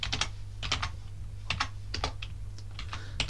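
Typing a command on a computer keyboard: rapid clusters of close, crisp key clicks in an irregular rhythm, with a steady low hum underneath.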